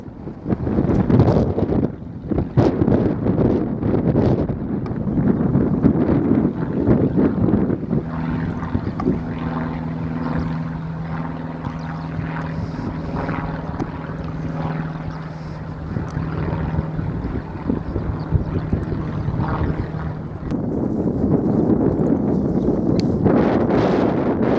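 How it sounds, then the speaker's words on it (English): Wind roars and buffets a microphone on a riverside walk in Ixworth, Suffolk. The rush is steady and loud throughout, and a faint droning hum runs beneath it partway through. "I'm surprised where all this wind has come from."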